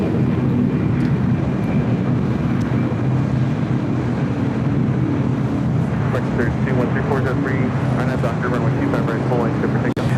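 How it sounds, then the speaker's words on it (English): An American Airlines Airbus A321 takes off at LAX, a steady loud jet roar filling the scene throughout, with people talking over it and chirpy sounds near the end. "2811 taking off to Dallas Fort Worth on an A321."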